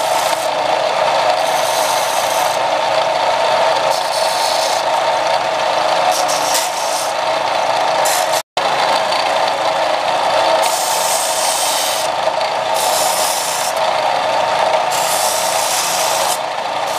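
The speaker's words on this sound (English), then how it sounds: "I'm going to take this to the belt sander and round these off" Belt sander rounding off the edges of a wooden cigar box guitar part, a loud continuous grinding whir with shifting abrasive rasp as the piece is pressed on, broken by one very brief pause.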